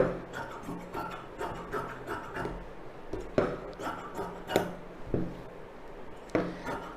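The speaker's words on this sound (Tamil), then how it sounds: "இதில் இந்த அளவு போட்டு கொஞ்சம் எக்ஸ்ட்ராவே விட்டு கட் பண்ணிவிடுங்க" Scissors snipping through blouse fabric with lining on a tailoring table, a few rhythmic rasping cuts with short pauses between strokes, close and fairly quiet, no talking.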